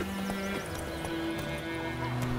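Roach the horse from The Witcher 3 gives a short neigh over a soft clip-clop of hooves, with in-game ambience continuing beneath.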